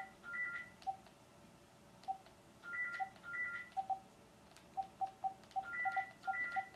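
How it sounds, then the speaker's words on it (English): A mobile phone rings with an incoming call, sounding as repeated short electronic tones and beeps in an irregular pattern across the whole stretch, fairly faint over a low background hum, with no talking. "Oh, I'm having external call, but anyway, let me just leave it."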